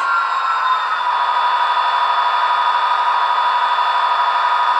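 A VIA F40PH-2D diesel locomotive in a train simulator game drones steadily in standby mode, giving a constant loud hum with a high whine and no talk.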